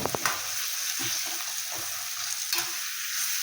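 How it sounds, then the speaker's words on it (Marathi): Tomatoes fry on a high flame for a prawn curry while being stirred continuously, a loud steady sizzle broken by repeated spatula scrapes and knocks against the pan. "हे टोमॅटो एकजीव होईपर्यंत त्यांना मोठा गॅस लावू द्यायचा. अच्छा, आणि कंटिन्यू फिरवत राहायचं."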